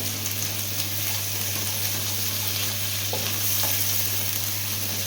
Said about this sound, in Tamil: வாசனை போகிற வரைக்கும் இதை ஃப்ரை பண்ணணும்